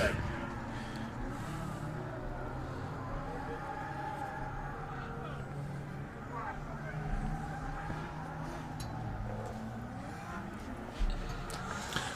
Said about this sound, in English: Can hear someone warming their tyres up in the background